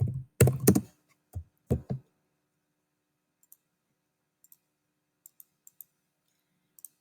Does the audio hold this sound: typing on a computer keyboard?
yes